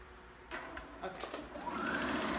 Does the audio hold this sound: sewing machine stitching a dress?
yes